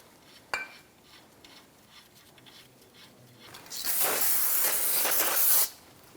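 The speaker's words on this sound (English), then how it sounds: "we're going to brake clean this side as well." Brake cleaner sprayed onto the rear brakes of a 2005-2010 Chrysler 300, a sharp close hiss bursting in for about two seconds after a faint metallic tap and quiet handling noises.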